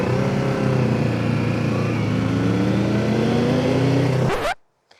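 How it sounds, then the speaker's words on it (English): A motorcycle engine running close and loud on a ride out near Bala Lake in North Wales, holding a steady, even idle hum for about four seconds before cutting off abruptly into silence. "Maybe I need to turn the bike on to change into first."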